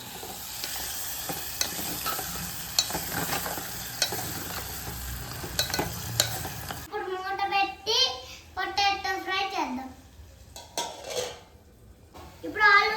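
Mutton legs coated in spice paste stirred in a pot, with continuous sizzling and repeated spoon scrapes and clanks against the metal for several seconds, after which a voice and other talking take over with only faint stirring underneath.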